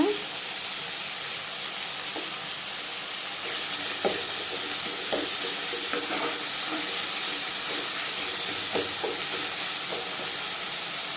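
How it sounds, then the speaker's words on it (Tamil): Tomatoes sautéing in a pan for a dried anchovy fish curry, a steady soft hiss with occasional light taps and scrapes from stirring. "தக்காளி நல்லா வதங்கட்டுங்க"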